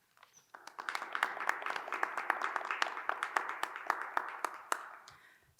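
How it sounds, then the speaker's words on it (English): A modest crowd claps for honor society graduates at a high school graduation ceremony, with sharp individual claps standing out over a soft, sustained patter that swells briefly and then tapers off. "Please give these students a round of applause."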